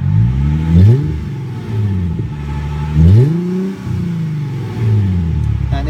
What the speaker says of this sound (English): I want you to hear the exhaust